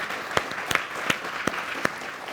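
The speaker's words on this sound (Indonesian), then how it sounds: "Tepuk tangan dong buat Mas Erik" At a year-end political gathering, an audience applauds for Mas Erik with a soft, continuous patter of many hands, punctuated by a few loud, evenly spaced single claps close by.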